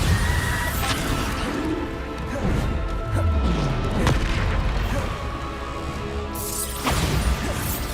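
A Bombarda explosion spell in the Hogwarts Legacy video game: loud, dense booms and crashes, one striking near the start and another near the end, over continuous game action and effects with no talk.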